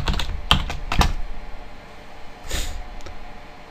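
A password typed on a computer keyboard, heard as a quick cluster of close, crisp key clicks, then a pause and a few more scattered taps.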